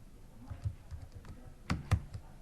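Light keystrokes on a computer keyboard as a macro name is typed in Microsoft Word, a short run of soft close taps ending in two firmer clicks, with no talking.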